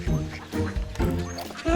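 Ducks quack repeatedly at feeding time in an animated children's setting, several loud nasal calls in a bouncy rhythm over a musical background.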